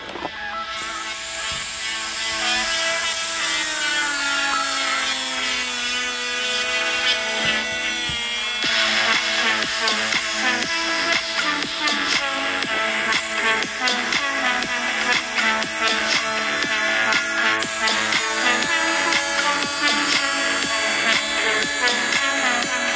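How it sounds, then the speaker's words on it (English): An angle grinder cuts through the stock fender of a Jeep Wrangler JK, a steady high whine with bursts of gritty metal grinding that runs continuously, fairly loud and close, without talk. "All I have is a grinder, so I'm gonna try my best to cut it with the grinder."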